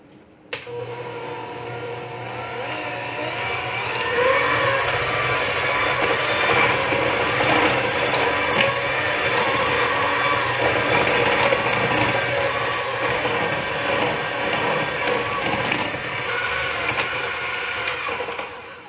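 A mixer creams butter, honey and molasses for gluten-free cranberry white chocolate blondies, running as a steady, fairly loud whir for nearly the whole stretch with no talking.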